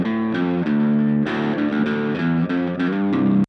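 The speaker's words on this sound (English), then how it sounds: "And then I did a pass with like high distortion." A guitar amplifier set to high distortion and captured through a JZ BH2 or V67 studio microphone, playing loud, thick sustained chords with sharp changes between them, alone with no talking.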